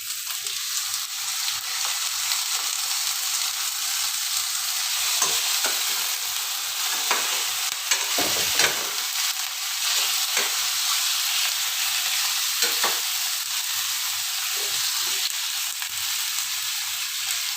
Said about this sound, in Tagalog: Saute lang natin siya ng konti.